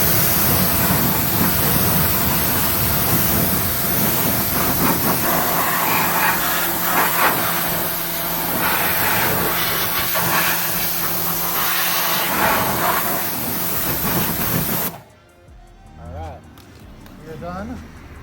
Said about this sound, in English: So let's rinse off the wheel, we'll reapply the cleaners and get into the contact.